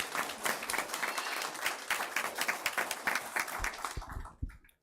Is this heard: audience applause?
yes